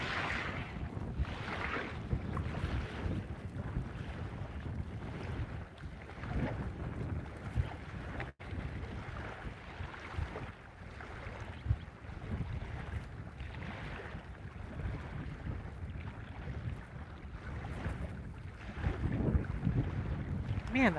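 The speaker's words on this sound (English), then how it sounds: "Man, that wind is really something right now." Wind gusting across an open lake shore, a low rumbling buffet on the microphone that swells and eases continuously, with water lapping faintly beneath and no voices.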